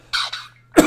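A person coughs two quick times close to the microphone, then gives a sharper third cough after a short pause.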